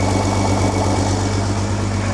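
An old truck engine that sat unused for 35 years idles steadily nearby, a smooth continuous low rumble with even vibration and no talk.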